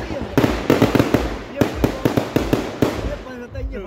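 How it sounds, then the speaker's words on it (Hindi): Firecrackers set off during next-day festivities crack in an irregular series of sharp, loud bursts, some close together and others spaced apart, over faint background voices. "लो जी नेक्स्ट डे की खुशियों में पटाखे बज रहे हैं"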